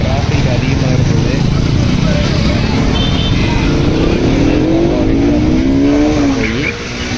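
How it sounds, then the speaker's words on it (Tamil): Heavy road traffic near Anthiyur Kovil temple in Tamil Nadu: a dense, continuous roar of passing vehicles with one engine rising and falling clearly, close and loud, and voices heard over it. "சரியான கூட்டங்க, டிராஃபிக் அதிகமாக இருக்குது"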